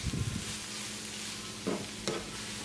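Cabbage stir-fry sizzles in a pan with a soft, steady frying hiss, broken by a few scraping stirs of a spatula near the start and two short, sharper clatters toward the end.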